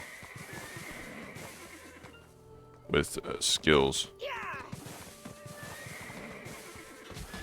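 A tier 8 horse in the video game Black Desert Online neighs with a loud, brief whinny in the middle, while someone talks before and after it.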